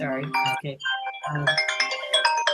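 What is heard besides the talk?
phone ringing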